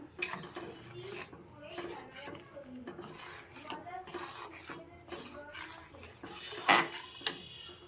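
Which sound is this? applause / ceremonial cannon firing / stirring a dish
stirring a dish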